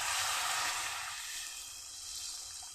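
Water poured into fried spice masala in a pan for a vegetarian dhoka curry, giving a bright, steady hiss and sizzle that slowly settles over a few seconds with no one talking.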